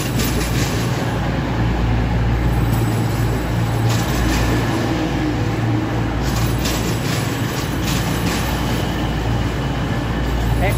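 A Class 222 Meridian diesel unit, 222-103, arrives at Nottingham station with a steady, loud low rumble and engine drone that persists throughout, with faint wheel and rail noise on top.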